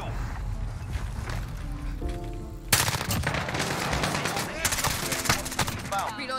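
Rapid bursts of gunfire from the video game Modern Warfare crackle loudly and continuously, with brief tonal game effects and a voice talking over the shooting.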